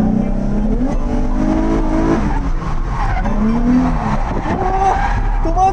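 A Nissan Z33 is driven hard on a race course with a recently repaired clutch, its engine revving loudly as its tires squeal in long drawn-out skids.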